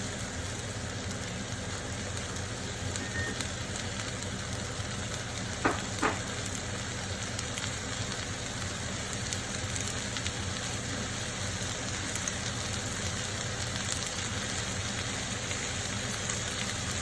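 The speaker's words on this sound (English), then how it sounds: "Alright, that sounds better. I can hear the sizzle." Barramundi fillets and vegetables sizzle steadily in a single hot pan, a constant close frying hiss with no talk over it.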